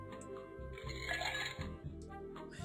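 Ice clinks and rattles into a glass while a drink is mixed in a bartending video game, a cluster of bright chinks over a steady backdrop of game music.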